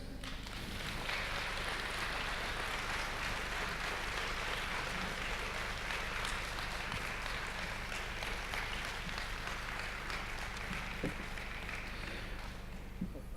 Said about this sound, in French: je vous invite à acclamer Regius